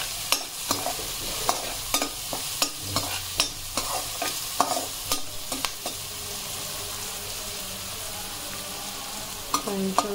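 Green beans and garlic fry in hot oil with a steady sizzle, broken by repeated sharp scrapes and clinks as a spatula stirs the pan close up; no voices.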